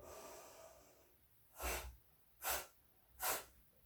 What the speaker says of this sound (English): you're going to breathe in, and then you're going to pump out from your nose 3 times